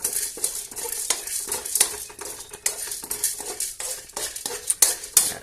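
Chana dal roasts in a pan for pirandai chutney, a spoon stirring and scraping steadily against the metal with light clinks and a faint dry rustle, close up and with no talk.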